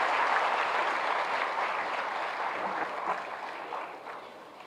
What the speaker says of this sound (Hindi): जोरदार तालियों से स्वागत करें पुनः आप सब।